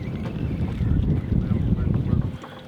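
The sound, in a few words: wind blowing outdoors while fishing from a boat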